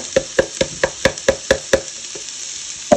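Onions and grated walnuts fry in a pan while a utensil taps against it in a quick, regular rhythm of about nine knocks. The taps pause briefly and then return once over a constant soft sizzle, with no voices.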